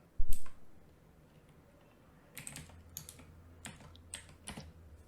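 Keyboard typing while editing PHP code: a sharp initial tap, a quiet pause, then a steady run of close, crisp key clicks with a faint low hum underneath.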